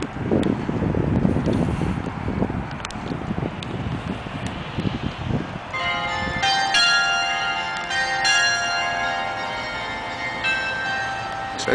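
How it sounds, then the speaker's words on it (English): Bells being rocked by hand at a bell house ring out after a windy, rustling opening, their sustained metallic tones layering and overlapping for the second half, fairly close and steady. "you can manually rock the bells"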